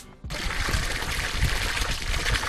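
Salt water drawn from a well trickles steadily through pipes at inland salt pans set among olive groves in Jaén, a continuous close splashing rush that starts abruptly and carries on without pause.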